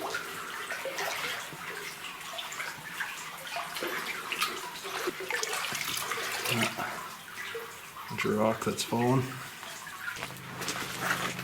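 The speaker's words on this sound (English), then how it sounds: "This water is about knee deep." Someone wades through knee-deep water inside an old mine, with continuous sloshing and splashing close by. Louder surges come near the end, and a voice speaks briefly in between.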